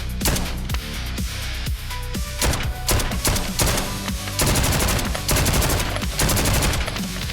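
Assault rifle firing full auto in the video game Road to Vostok, loud rapid bursts of gunfire with short pauses between, close and punchy.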